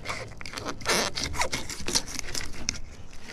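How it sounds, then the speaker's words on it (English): A fillet knife scrapes and cuts along the rib cage of a freshly caught creek fish, a run of close, rasping strokes and short scratches with no talk. "I do like to fillet around the rib cage"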